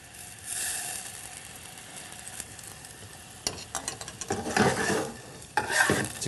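White wine and lemon juice sizzle and reduce in a hot pan over high heat with shallots, first a soft steady hiss, then louder bursts of frying with a few stirring scrapes.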